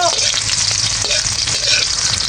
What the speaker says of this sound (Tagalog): nagisa ko na po itong bawang at saka sibuyas